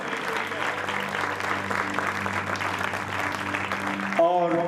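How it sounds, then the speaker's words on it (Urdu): Loud, sustained applause from a church congregation during a worship service, steady clapping for over four seconds with a voice and tonal sounds cutting in near the end. "زوردار تالیاں بجائے، خداوند کے کلام کی زوردار تالیاں بجائے۔"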